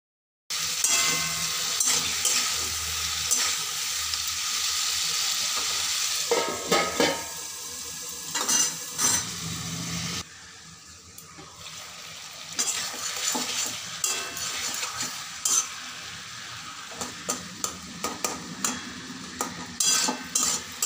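Tomatoes and sweet potatoes for a sour fish curry sizzle loudly and steadily in a pan, then quieter stretches follow with repeated scraping and clinking of a spatula stirring against the metal.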